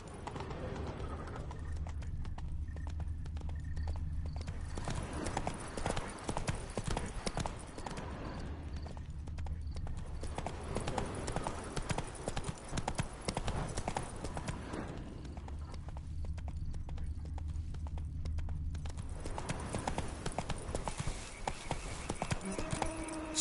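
Roach the horse gallops in The Witcher 3, rapid hoof clip-clops drumming in long continuous runs that swell and ease in waves, close and steady under a low ambient game backdrop.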